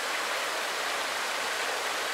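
A small creek, fished with a tenkara rod, flows in a continuous, even rush of water, close and steady with no voices over it.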